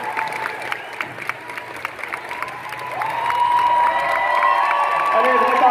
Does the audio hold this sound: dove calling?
no